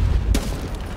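A grenade detonates in the tactical shooter Rainbow Six Siege, a sudden loud boom with a sharp burst that fades into rumbling game noise for the rest of the moment.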